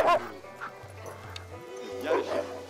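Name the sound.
malamute sled dogs barking before a dog sled run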